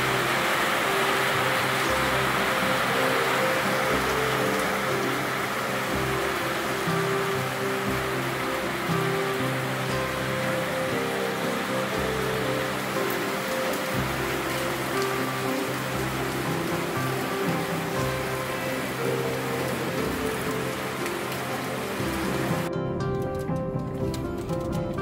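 Steady rain falling over a village near Yeşilkaraman, Aksu, in Antalya, a continuous dense hiss heard from inside a moving vehicle on a road, with a low rumble beneath and a brief break near the end.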